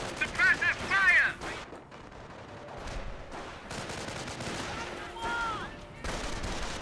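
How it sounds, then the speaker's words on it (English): Gunfire and explosions from the World War II strategy game Company of Heroes, with bursts of small-arms and heavier fire rolling through a dense battle soundscape, a loud cluster near the start, and game voices mixed in. "Suppressive fire."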